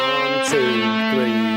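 A sustained, gritty distorted electric guitar plays a short two-note bluesy phrase with a bend, ringing loudly with no voices.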